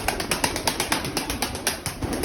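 Domestic pigeons flapping and cooing nearby, with repeated quick wingbeat bursts in a fairly even rhythm, close and moderately loud with no talking.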